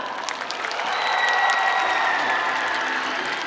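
Audience applause at a film festival open talk, a packed crowd clapping steadily at moderate distance, swelling slightly midway with faint cheering mixed in.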